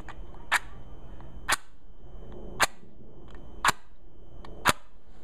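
Damp UCO Storm Proof matches struck against the box striker five times in a steady rhythm, each a sharp, close scrape-snap with quiet gaps between.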